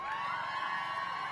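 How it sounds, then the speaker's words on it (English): A crowd at a Capitol Hill health care rally applauds and cheers for health care workers, a dense continuous wash of clapping and whoops heard at a distance. "So please give them a round of applause."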